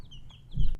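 A young rooster clucks close by, giving soft short calls, then one louder, fuller cluck near the end, with no talking.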